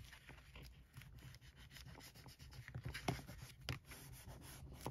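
Tape is burnished onto a paper accordion folio in a steady, quiet run of dry rubbing strokes close by, with no speech.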